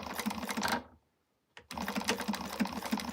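A sewing machine back-stitching the pocket of a quilted wristlet, a rapid mechanical chatter that stops for about half a second, then resumes at the same pace.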